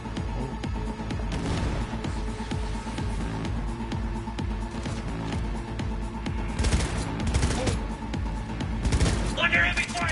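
Heavy gunfire in the video game Cyberpunk 2077 crackles steadily in dense volleys of shots and thuds, a continuous firefight running throughout with voices mixed in.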